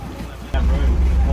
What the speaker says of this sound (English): He started the engine.